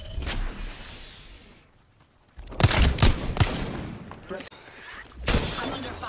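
Apex Legends gunfire in sharp bursts: a loud volley at the start, a lull, then heavy clustered shots and booms, with a voice heard during the fighting.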